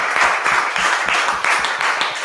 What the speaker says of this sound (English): I think round of applause for Steve.